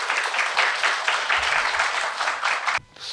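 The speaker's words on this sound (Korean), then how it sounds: "뜨거운 박수로 맞이하도록 하겠습니다" A roomful of people clap warmly to welcome a speaker at a redevelopment briefing, steady close applause with a rhythmic swell that cuts off sharply near the end.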